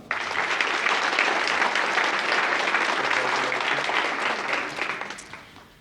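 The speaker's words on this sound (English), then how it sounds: "Let's hear it for Bob Chavin." Steady, full clapping from an audience at a United Way community thank-you event, holding for several seconds before tapering off at the end, with no talk over it.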